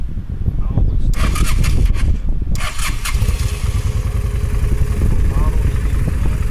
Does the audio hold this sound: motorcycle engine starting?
yes